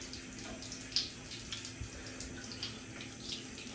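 A household tap runs steadily into a sink as someone waits for the water to warm up: a soft, constant rushing stream with a few faint splashes and no talking.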